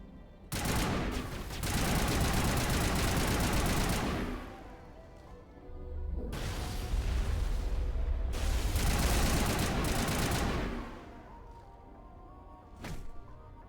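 Rifle gunfire in the Mass Effect video game: three long, loud automatic bursts of rapid shots separated by brief pauses, with a faint final pop near the end.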